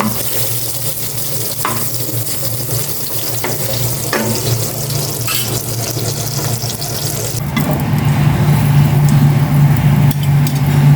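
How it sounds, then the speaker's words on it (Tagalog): Hotdogs sizzle and crackle steadily in hot oil in a pan, close up, with occasional utensil scrapes; the frying grows louder and fuller near the end. "Prito-prito po naman na ang hotdog."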